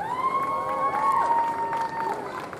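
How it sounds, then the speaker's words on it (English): Crowd cheering and clapping at a Pasadena fire service day demonstration for a probationary firefighter, sustained and moderately loud, with a whistle-like tone and voices mixed in. "Give probationary firefighter Mitchell a round of applause."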